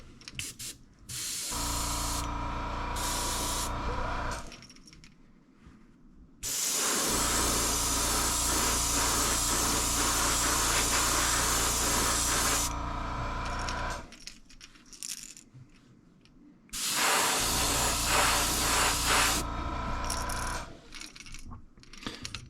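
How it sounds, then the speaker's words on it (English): Airbrush spraying a coat of paint in three long hissing bursts separated by short pauses, steady and close, with no voices. "This new airbrush makes quick work."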